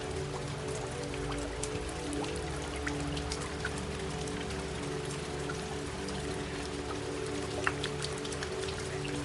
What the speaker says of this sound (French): La pluie continue